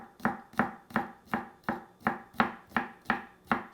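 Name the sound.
knife thinly slicing garlic cloves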